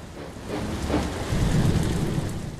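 Steady rain and a low rumbling thunderstorm in the ship-simulation game Ship Simulator: Maritime Search and Rescue, a continuous wash of rainfall with a deep roll of thunder swelling midway, no voices.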